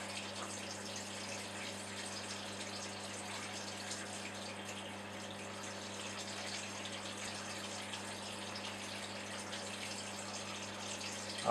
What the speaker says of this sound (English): that's just the sink that doesn't flush properly, so every once in a while it makes a lot of noise.